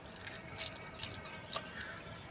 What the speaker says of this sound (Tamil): தண்ணி ஊற்றி இதை கொண்டு வந்து செடிக்கு மேலே தொளிங்க.